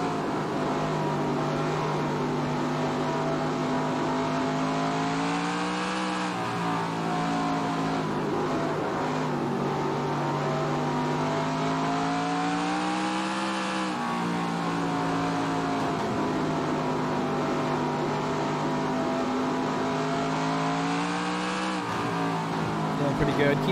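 A modified race car engine at Beech Ridge Motor Speedway in NASCAR Racing 2003 drones loudly and steadily, its pitch dipping and climbing in repeated cycles as it brakes and accelerates around the short oval.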